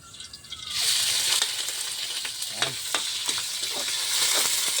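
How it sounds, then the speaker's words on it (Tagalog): Pork pieces (limpo) sautéing in cooking oil in a kawali for simple pancit canton: a soft start, then a loud, steady sizzle from close by, with crackles and pops as the meat is stirred, and no talking. "Tayo magigisa na ng limpo."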